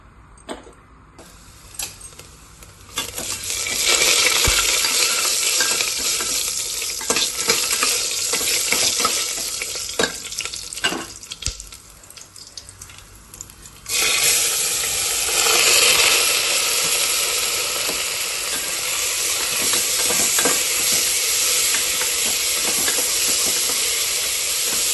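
Rice frying and being stirred in a pan in a home kitchen, a steady loud hiss and sizzle with scraping stirs; the sizzle drops back briefly, then swells again strongly and continues to the end.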